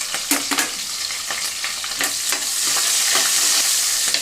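Onions and green chillies frying in oil for a broad beans pulav, a steady close sizzle broken by sharp scrapes and clinks of a stirring spoon against the pan.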